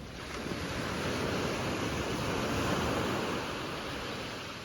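Calm sea water washes along the shore at Sabang Port early in the morning, a broad, steady rushing wash with wind noise and no voices.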